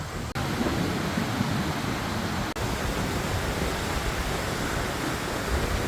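Calm sea on the west side of the northern point of Koh Phangan makes a steady, broad wash of gentle surf with no voices over it.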